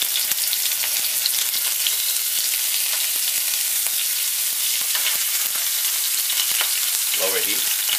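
Beef frying in olive oil in a pan on low heat for Thai pad see ew, a steady close hiss of sizzling with scattered crackles and pops throughout.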